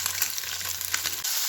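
Amudi fish frying in hot oil in a wok (kadai), giving a steady, close, crackling sizzle with a few sharper spits, heard alone without talk.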